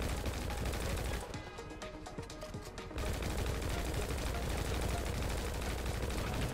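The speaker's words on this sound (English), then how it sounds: "Hold on, I'll shoot this one down for us real quick." Gunfire aimed at a helicopter in GTA 5: continuous rapid shooting breaks into a burst of sharp separate shots partway through, then rattles on steadily and loud.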